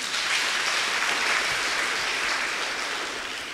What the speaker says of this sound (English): Wow, give them a clap.